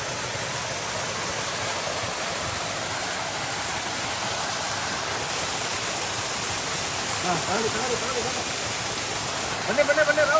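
A waterfall near Chikkamagaluru pours with a dense, constant roaring hiss that fills the whole scene, and a faint voice comes through near the end.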